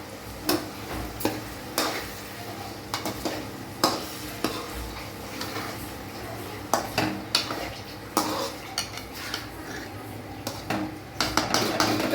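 Egg noodles with salt sautéing in a metal pan, with a low sizzle under repeated sharp clinks and scrapes of a spoon against the pan, struck in irregular bursts.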